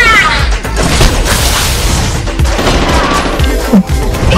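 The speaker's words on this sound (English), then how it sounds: "Your team has destroyed the turret." A turret destroyed in the Honor of Kings mobile game, dense bursts of crashing impacts, booms and rapid gunfire-like blasts filling the whole stretch loudly and continuously.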